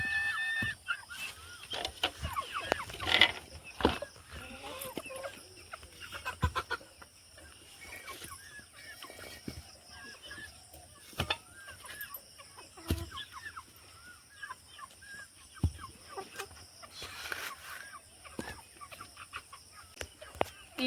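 Chickens cluck and squawk restlessly in a coop at morning feeding time as powdered feed is given, with irregular close calls, scattered bursts and some clattering throughout.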